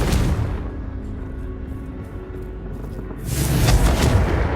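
A Confringo fire spell exploding in Hogwarts Legacy, a deep booming blast opening the sound, a lower rumbling tail, then a second heavy burst near the end.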